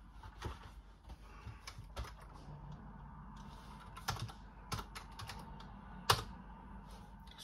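Someone types on a computer keyboard at a router login page, a quiet, irregular run of light key clicks with a few sharper taps, close by in a hushed room.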